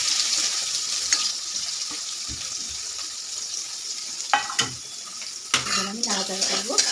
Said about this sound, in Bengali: এখন পেঁয়াজ কুচি দিয়ে দিলাম।